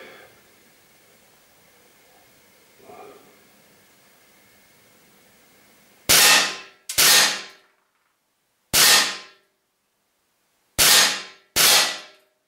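Five sharp, crisp shots from a Steyr LP50RF air pistol, each a loud snapping crack with a short decay, spaced irregularly after a quiet stretch with faint background noise.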